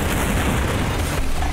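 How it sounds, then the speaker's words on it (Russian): A loud, dense blast rumbles through a vehicle battle in the game Crossout, a sustained booming roar that fills the whole moment with heavy low-end noise. "Искусство. Это взрыв."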